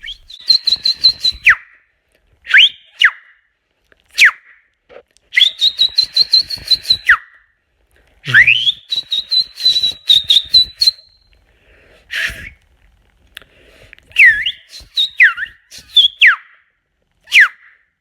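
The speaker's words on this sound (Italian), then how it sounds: "Questo è come fischiare senza dita." A person whistles without fingers, using only the teeth and lips, producing a run of loud, piercing high-pitched blasts, some held and sliding up or down, others short chirps, separated by brief silences.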